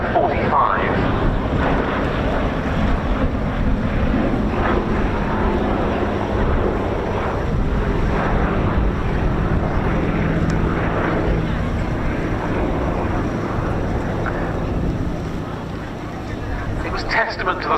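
A Fairey Swordfish biplane flying at an outdoor air show, a loud, continuous propeller-engine drone mixed with wind buffeting on the microphone, with a commentator's voice running over it.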